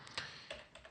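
Keys clatter on a computer keyboard as C++ code is typed, a few quick clicks spread across a short moment, fairly close and fairly quiet, with no voice over them.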